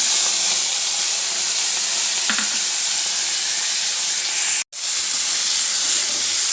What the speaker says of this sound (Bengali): এবারে এই চিংড়ি মাছগুলো আমি এর মধ্যেই ভেজে নেব।